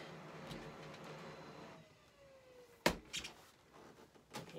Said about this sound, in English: Here's my printer, so my label is coming out.